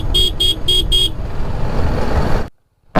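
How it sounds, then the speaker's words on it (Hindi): Four short, evenly spaced horn beeps from a motorcycle approaching a bend on a mountain road between Munsiyari and Pithoragarh, loud and close, over a steady engine rumble, then a sudden cut to silence. "ज़रूरी है हॉर्न देना जैसे मैं दे रहा हूँ।"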